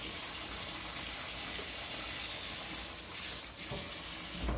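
Water runs steadily from a kitchen tap to rinse off a filled canning jar of pears, a continuous broad hiss with no voices.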